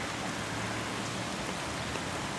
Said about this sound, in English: Just can't believe it's raining.